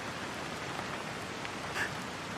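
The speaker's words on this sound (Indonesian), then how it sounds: "Malam ini, aku pengen kamu ngedengerin suara hujan ini." Steady rain falls as a dense, even hiss, close and continuous, with a few slightly louder drops standing out and no voices.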